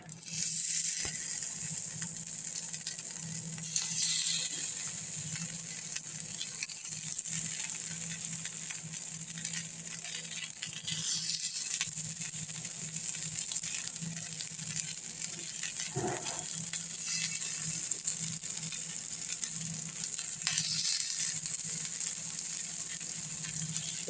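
Potato cutlets coated in maida paste and breadcrumbs shallow-fry in a pan, giving a steady, soft, continuous sizzle with faint pops and crackles throughout and no voices.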